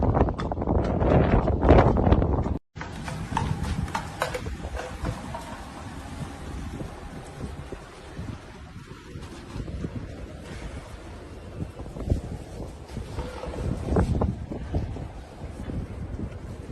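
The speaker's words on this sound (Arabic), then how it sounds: "رياح قوي." Strong wind buffets the microphone during a dust storm in Arar, Saudi Arabia, a continuous roaring rush with heavy gusts at the start and swelling again later, loud and unbroken.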